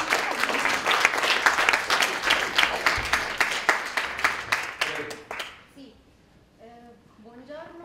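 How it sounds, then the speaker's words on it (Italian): Sustained applause from a press conference audience after a speaker finishes praising a filmmaker's cinema, dense and fairly loud for about five seconds before fading into talk. "Sì, ci vuole l'applauso."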